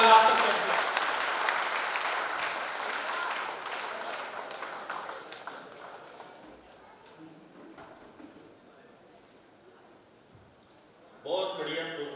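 An audience at a Kavi Sammelan poetry gathering applauds a poet, a steady wash of claps that slowly fades away. A voice speaks over it, and a new voice starts up near the end.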